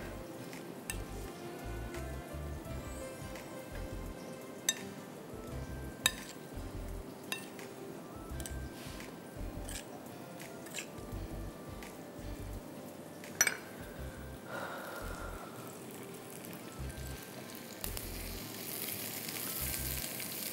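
Onions and masala-marinated chicken fry in a pan for chicken pulao, a steady close sizzle running throughout with occasional clinks and stirring knocks of utensils, no talking.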